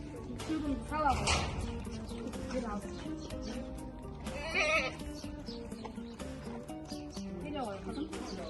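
Goats bleating during milking, several wavering bleats rising and falling across the stretch, close and fairly loud, with soft rustling and background activity between calls.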